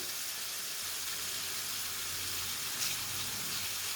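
Alexandrian-style liver with garlic and spices sizzling in a pan on a gas stove, a steady, even hiss of frying that holds constant throughout with no voices.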